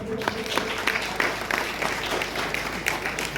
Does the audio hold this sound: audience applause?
yes